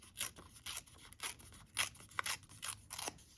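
Paper is torn by hand for a journal page, giving a quick series of short crisp ripping bursts, close and fairly quiet.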